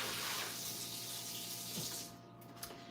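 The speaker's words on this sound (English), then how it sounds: "Just going to rinse off my broccoli." Broccoli rinsed under a running kitchen tap, a soft steady rush of water that thins out and stops near the end, with a few faint clinks, no voices.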